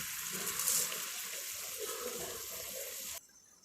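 Water bubbles and churns in a pot over a high flame while cooking coloured vermicelli, a steady rushing, gurgling sound that runs for about three seconds, then cuts to a quieter background.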